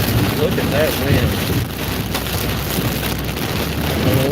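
Strong sustained wind roars and buffets the microphone during an Iowa tornado-outbreak storm, a dense, loud, continuous rush with no pauses.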